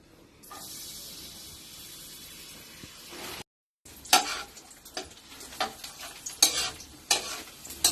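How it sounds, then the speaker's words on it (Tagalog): Garlic frying in oil on a gas stove during a school cooking activity: a steady hiss that cuts out briefly, then resumes with scraping stirs and crackling bursts, close and moderately loud. "Buksan natin ang gasol at kalan. Lagyan na po natin ang bawang."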